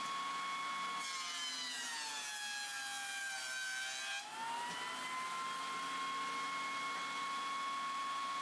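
A table saw cuts through a 2x4 board: a steady high motor whine that drops in pitch and roughens as the blade bites, then rises back to a free-running hum, close and without speech.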